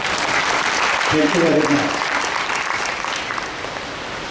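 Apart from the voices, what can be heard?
audience applause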